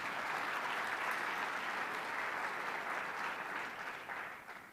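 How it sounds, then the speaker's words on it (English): A room full of people claps steadily for several seconds, the dense applause fading slightly toward the end. "Big round of applause"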